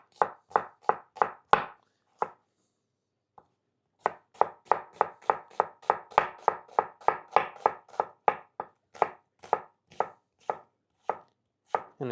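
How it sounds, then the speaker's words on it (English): Vegetables for beef ragu roughly sliced with a knife on a cutting board, sharp close chops in quick bursts, a short pause, then a long steady run of rhythmic knife strikes, no talking. "Now I'm just going to really simply and roughly slice this all up."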